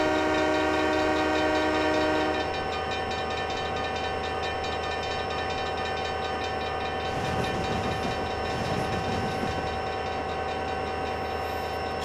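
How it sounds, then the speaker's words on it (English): Locomotive horn sounded once in Trainz 2010, a steady chord-like blast held for a couple of seconds over the constant rumble of the moving train, which carries on afterward. "I'm just going to blow my horn once."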